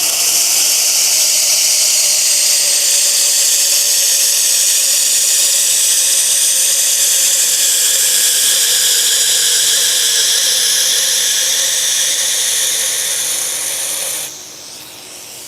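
Knife blade held lightly against a lubricated belt on a 2x72 belt grinder, a loud continuous high whine with steady tonal overtones for about fourteen seconds, then dropping away as the blade lifts off.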